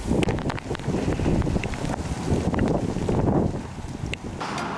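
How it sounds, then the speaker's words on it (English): Gusty wind buffets the microphone outdoors in Florida just before a brief summer storm, a steady roaring rush with rough low-end rumble throughout and no talking. "Actually getting a little windy, which is like not even that common here"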